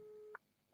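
A single short telephone tone sounds during a call placed from a radio studio, then cuts to silence before a sharp click.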